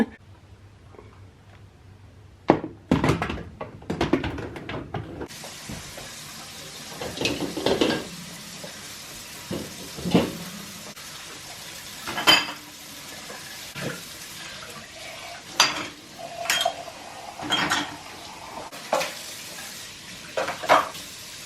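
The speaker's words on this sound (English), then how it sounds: "now let's do the dishes" Dishes being washed in a kitchen sink, with a faint background hiss and repeated soft clinks and splashes coming in irregular bursts, with no talking.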